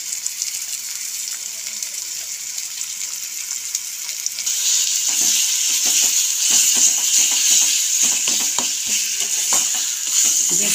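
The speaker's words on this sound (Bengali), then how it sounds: "পেঁয়াজগুলো একদম গোল্ডেন করে ভেজে নিয়ে ডুমুরের পেস্টটা দিয়ে দিলাম।" Fig paste frying in a pan with golden fried onions, a steady hiss that swells into a loud sizzle as a spoon repeatedly stirs and scrapes, close and alone.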